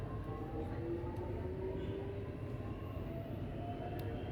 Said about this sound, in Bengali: ট্রেনের দরজা অটোমেটিকলি বন্ধ হয়ে গেল এবং ট্রেন চলতে শুরু করেছে।